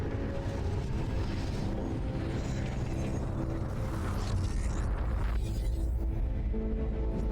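A huge city-destroying explosion in the video game Crysis 3 Remastered comes across as a loud, sustained low rumble with crackling debris, filling the whole stretch without letup.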